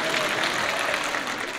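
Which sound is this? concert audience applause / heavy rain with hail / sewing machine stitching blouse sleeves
concert audience applause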